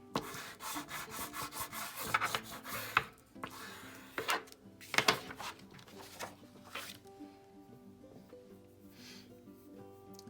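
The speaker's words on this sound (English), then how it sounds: "I'm going to use my bone folder here to make sure I get it glued down well." A bone folder rubbed firmly over glued paper on a mini journal, repeated scraping strokes in short bursts, close and fairly quiet, with a few light taps and handling noises.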